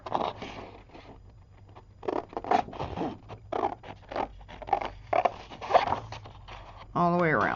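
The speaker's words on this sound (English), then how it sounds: "I'm just going to cut it out, this journaling card" Scissors cutting a paper journaling card, a run of short snipping and crinkling bursts at an uneven pace, close by and moderately loud, ending with a brief rising squeak.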